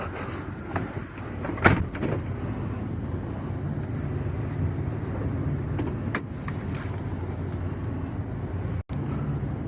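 1969 VW Beetle being pulled out of storage by a vehicle: a steady engine rumble with a few scrapes and clunks, heard close and fairly loud without speech.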